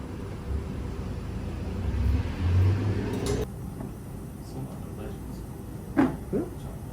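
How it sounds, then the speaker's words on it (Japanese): A window shutter slides shut in a private sushi omakase dining room in Yotsuya, Tokyo: a brief scraping slide ends in an abrupt stop, after which the room turns quieter, with faint voices around. "the shutter can be closed to block out light."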